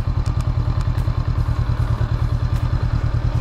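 A motorcycle idles with a steady, chugging low throb while stopped during a U-turn manoeuvre, punctuated by a few light clicks and clatters, close and fairly loud.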